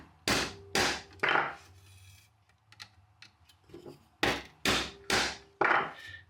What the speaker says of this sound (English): take the setting tool. Give it 2 good whacks